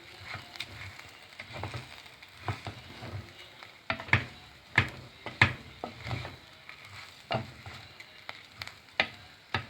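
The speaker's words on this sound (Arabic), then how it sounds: "تمام، تعالوا نقلبه يلا." Orzo (lisan asfour) being stirred in a pot makes soft frying sizzle under irregular, sharp scraping and clinking strokes of a spoon against the pot, close up, growing louder toward the end, with no talk.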